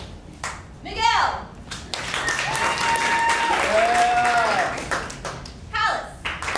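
Audience applause and clapping swell and hold for several seconds at a live show voting, mixed with cheering and a shouted voice, fairly loud with a room feel.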